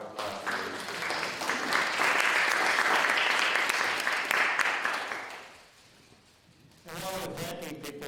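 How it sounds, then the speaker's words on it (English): Applause rises and holds at a committee meeting, a sustained round of clapping from a room of people that fades out, followed by a quieter stretch and then talking. "let's give a round of applause for these"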